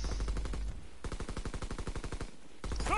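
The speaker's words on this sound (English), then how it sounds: "He's close, I can hear the gun." Rapid automatic gunfire in a World War II zombie shooter game, two bursts of close, loud, evenly spaced shots separated by a short pause.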